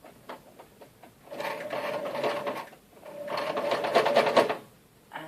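A sewing machine stitching fabric in two steady bursts of rapid mechanical clatter, each lasting over a second, with a few light clicks between and after them and no talking.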